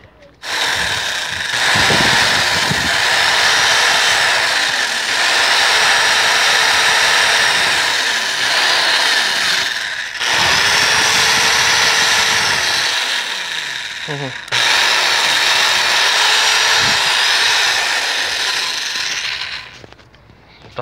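A power tool grinding down a part on a Yamaha Factor 125 motorcycle, a loud, steady whirring grind in three long passes with brief pauses between, close up, with occasional scraping shifts in pitch.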